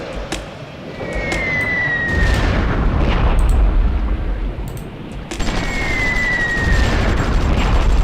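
Bombing explosions boom and rumble in the Supreme Ruler Ultimate strategy game, loud deep blasts swelling in two waves with whistling falls overhead.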